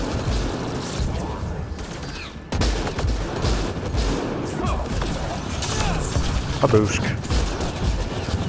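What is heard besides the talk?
gunfire from Kett guns in the video game Mass Effect Andromeda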